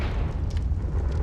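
A Confringo blasting spell goes off in the Hogwarts Legacy video game, giving a short, loud, booming burst with a rumbling low end that fades quickly.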